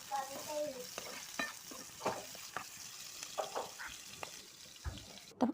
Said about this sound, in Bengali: কাঁচামরিচ ভাজা হয়ে তারপর টমেটো ভাজা হচ্ছে